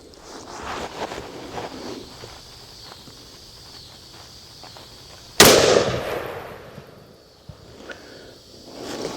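A single sharp, loud rifle shot from a Ruger Model 77 MKII bolt-action in .264 Win Mag, fired while sighting in at a steel plate outdoors, with a decaying echo after a quiet stretch of faint footsteps and ambient noise.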